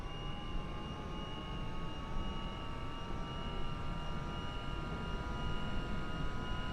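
A Cessna Citation CJ3 business jet's left engine spools up in Microsoft Flight Simulator, a steady broadband whine and rush with faint rising tonal lines, droning evenly throughout without talk.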